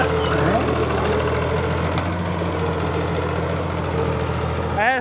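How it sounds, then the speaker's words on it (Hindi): A Pakistani tractor engine runs at a steady idle with a low, even rumble that continues throughout, and a brief sharp click near the middle. "पाकिस्तानी ट्रैक्टर है भाई"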